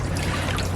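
Water trickles and dribbles out of the elbow of a homemade sand water filter, a steady, close, continuous flow with no voices.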